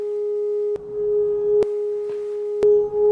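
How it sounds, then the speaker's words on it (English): A steady pure tone at a drinking glass's dominant resonant frequency hums continuously, broken by a few sharp clicks spaced roughly a second apart, with no voices. "Once found, we can verify our work by listening to the two tones."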